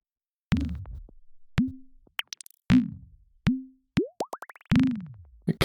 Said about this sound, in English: You're kind of starting to hear a little glimpse of random wateriness there.